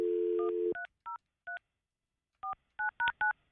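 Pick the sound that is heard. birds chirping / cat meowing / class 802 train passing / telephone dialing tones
telephone dialing tones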